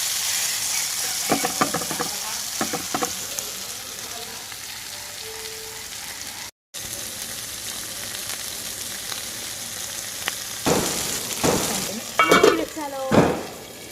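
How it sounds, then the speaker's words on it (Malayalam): Squid frying with grated coconut, Kerala style, gives a steady broadband sizzle throughout, broken by a brief gap and a few sharp clatters and stirring scrapes near the end; no one speaks. "അങ്ങോട്ട് നന്നായിട്ട് അങ്ങോട്ട് ഫ്രൈ ആകും"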